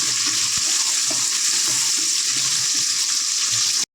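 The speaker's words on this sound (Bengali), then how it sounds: "টমেটো দিয়ে দিয়েছি, এর সাথে ভেজে নেবো।" Tomatoes added to onions sizzle steadily in a hot pan, a continuous bright frying hiss with a few soft stirring bumps, close and loud, with no talking.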